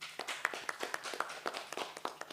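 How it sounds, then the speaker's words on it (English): Scattered hand claps from a small audience at an aerospace engineering career talk, an uneven patter of individual claps at moderate distance, fairly quiet and with no talk over it. "please clap for yourselves"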